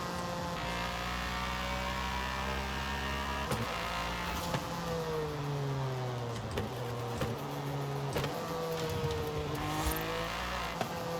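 A Cadillac DLC race car with side-exit exhaust in Forza Horizon 5 drops through several downshifts, the engine note sweeping up and down with crackling blips between gears, steady and fairly quiet.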